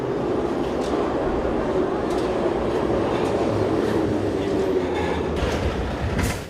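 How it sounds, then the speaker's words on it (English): A Kharkiv subway train runs steadily, its loud continuous rumble and rhythmic wheel clatter filling the whole stretch without talk, with faint squeals riding above. "the Kharkiv subway resumed service on Tuesday"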